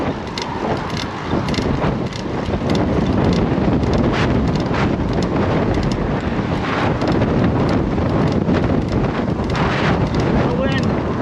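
Strong wind buffets the microphone outdoors while climbing a hill, a loud continuous rumbling roar with gusting swells and a person's voice faintly mixed in.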